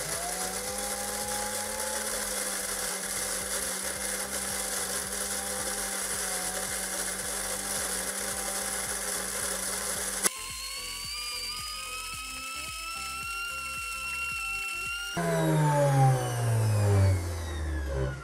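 An electric cereal grain mill grinds grain into chicken feed with a steady, high mechanical whine and a pulsing low drone. The pitch shifts abruptly twice as the load changes, then rises into a louder, straining spin-down near the end.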